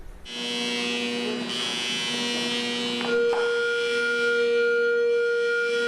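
A loud, sustained alert siren at an Air National Guard fighter wing base in Atlantic City, New Jersey wails steadily with a droning, buzzing tone, shifting pitch partway through and continuing without pause.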